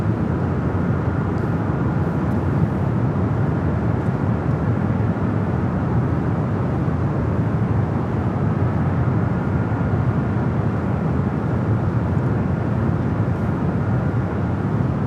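An airliner takes off from runway 24 Left at Los Angeles International Airport, a steady broadband jet roar that holds at a constant loud level throughout, with no voices.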